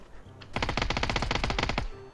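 Rapid automatic gunfire in PUBG, a dense burst of about twenty sharp shots in quick succession lasting over a second, loud and close, with quieter ambience before and after.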